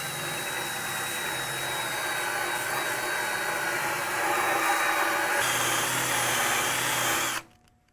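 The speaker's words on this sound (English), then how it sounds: "sometimes if you use a wire wheel on them" Wire wheel grinding steadily across a car body panel to expose spot welds, a continuous whirring, scraping whine held close for several seconds before stopping abruptly.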